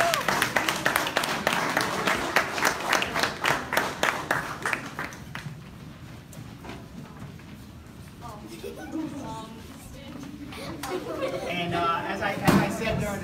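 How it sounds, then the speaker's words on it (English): Audience claps for two families called up at a Canajoharie fire event, starting with distinct rhythmic claps that fade into crowd chatter and voices, with a few more claps and taps near the end. "let's give them a round of applause"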